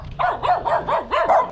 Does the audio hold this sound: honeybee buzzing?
no